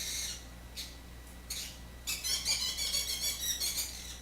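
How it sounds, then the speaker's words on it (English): A pet bird squawks in the background indoors, a few sharp isolated shrieks followed by a rapid chattering run of harsh calls, moderately faint and heard alone without talk. "Oh, my bird's going nuts."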